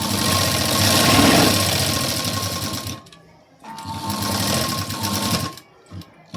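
A domestic sewing machine runs in two bursts of fast, even stitching along a square blouse neckline, loud and close, with a brief pause between runs and a short fade at the end.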